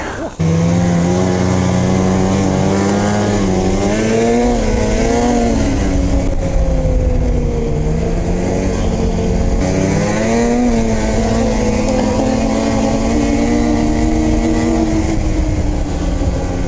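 A Polaris Switchback Assault 850 snowmobile being ridden: a loud, close, continuous engine roar whose pitch rises and falls repeatedly as the throttle opens and eases, steady throughout with no clear voices.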